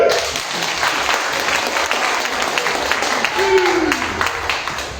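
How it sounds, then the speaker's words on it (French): Applause from an audience at a political meeting fills the clip as a steady wash of clapping, with a voice speaking over part of it. "Applaudissez!"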